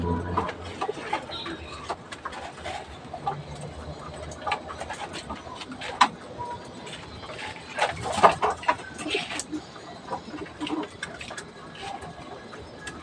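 Pigeons in a loft, cooing and shuffling through a steady bed of soft noise, with scattered sharp flutters and clicks; no one speaks.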